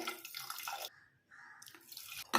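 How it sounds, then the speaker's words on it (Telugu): Tamarind juice is poured into a pot of lentils and onions for pappucharu, making a faint, close trickling splash that breaks off briefly and then resumes. "ఇప్పుడు ఈ చింతపండు రసం అయితే పోసుకోవాలి."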